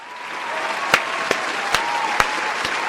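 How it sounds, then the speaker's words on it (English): Short applause rises over a background wash at a podcast opening, broken by a few sharp isolated claps or pops, all brief and fairly close. "Cue the applause."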